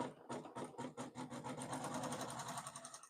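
Embroidery sewing machine stitching an appliqué in the hoop, a steady rapid mechanical chatter with a fast rhythmic pulse, close and continuous throughout.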